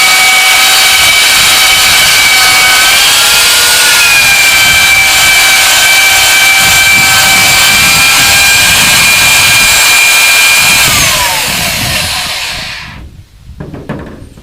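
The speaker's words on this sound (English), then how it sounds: "power planer works out a whole lot better" An old power planer shaves a wood carving, a loud, steady high-pitched whine with a constant cutting roar that holds for about twelve seconds before winding down and cutting off near the end.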